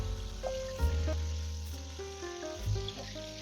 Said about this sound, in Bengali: একইভাবে বাকি সয়াবিনগুলো আমি ভেজে নিচ্ছি আর এগুলো কিন্তু অবশ্যই হাই হিটে ভাজবেন